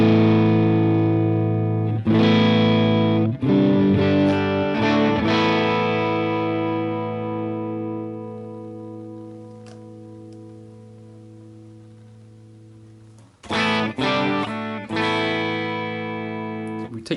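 Distorted electric guitar played through a Marshall Plexi amp model on a Line 6 Helix: ringing chords sustain and slowly decay, then a fresh burst of strummed chords follows near the end.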